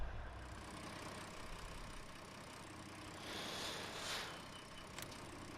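A truck engine idles steadily in Farming Simulator 19, a low continuous rumble that swells slightly toward the end with a brief higher hiss, no talking over it.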